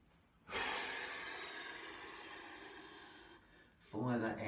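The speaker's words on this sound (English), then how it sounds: "Fire that exhale down." A long, slow exhale of breath during a qigong exercise, a steady airy rush lasting about three seconds close to the microphone, followed by the start of talk.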